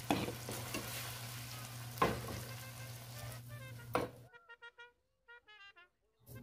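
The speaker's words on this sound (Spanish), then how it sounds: "Vamos a estar moviendo constantemente para que su cocimiento sea parejo." Shrimp frying in a pan while being stirred make a close, steady sizzle broken by a few distinct utensil scrapes, then the sound drops away and brief faint tones follow near the end.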